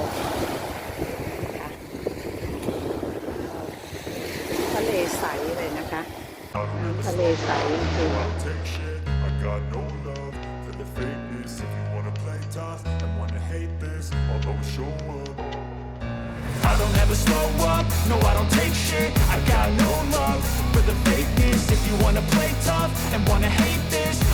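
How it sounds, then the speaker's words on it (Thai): Ocean waves rolling onto the shore at Bang Saray beach in Thailand, a wash of surf and wind noise, partly covered by music, which swells louder toward the end. "คลื่นก็ซัดเข้ามาที่ชายฝั่ง ลูกแล้วลูกเล่า"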